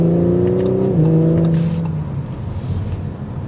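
A 2023 Audi S5 Sportback accelerates hard on a test drive, the engine note climbing steadily, dropping briefly at a gear change, then building again, loud and close from inside the cabin with no talk.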